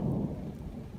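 Thunder and rain during a summer wildfire season: a steady, loud low rumble with rain noise throughout, with no voices.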